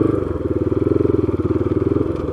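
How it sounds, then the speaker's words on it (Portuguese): A motorcycle engine thrums steadily with a rapid, even pulsing beat, close and fairly loud, while riding through a residential subdivision at Parque Campestre in Boituva. "Vou fazer um tour de moto por esse loteamento."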